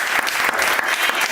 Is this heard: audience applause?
yes